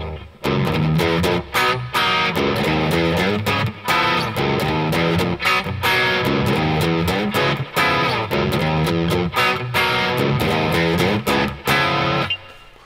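Electric guitar played through a Joyo Vintage Overdrive pedal, a continuous run of driven chords and notes with brief gaps, loud and close, no voices.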